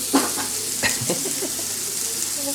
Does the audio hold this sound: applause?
no